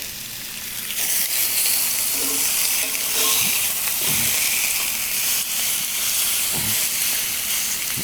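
Pork chops frying in a pan with a steady, close sizzle and hiss, broken by a few soft clinks and stirring sounds, with no talk.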